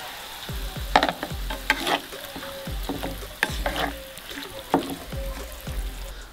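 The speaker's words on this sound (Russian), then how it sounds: "отправляем последний ингредиент, наши томаты, через терку" Grated tomatoes with sweet paprika fry in a pan while a utensil stirs and scrapes through them, giving repeated close clacks over a steady soft sizzle.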